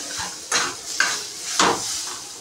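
A spoon stirs a mixture in a pan on a gas stove for a quick snack, giving three distinct metallic scrapes and clinks against the pan over a faint low sizzle.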